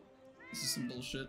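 A cat meows in a video game about herding sheep, two or three drawn-out, whiny meows in quick succession, loud and close, with someone talking over them.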